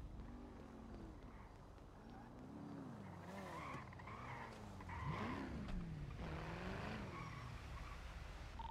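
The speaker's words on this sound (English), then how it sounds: "Someone drove by in a Panto." A Panto car in the GTA NoPixel game drives by with a wavering engine whine that rises and falls, plus squealing tires and skids, getting louder toward the middle and then easing off.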